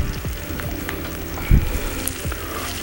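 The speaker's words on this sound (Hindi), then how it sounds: "मैं बीफ इस्तेमाल कर रहा हूँ, और तमाम चीज़ों को अच्छी तरह से भून लेंगे।" Beef fries with ginger garlic paste in a pan, a continuous close sizzle broken by scraping stirs, with one louder clatter of the spoon midway.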